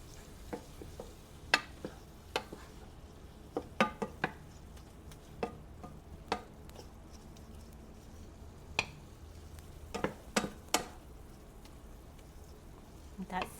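Thai chicken lettuce wrap filling being stirred in a pan, with irregular scraping clicks of a utensil against the pan over a faint simmering sizzle, close and quiet.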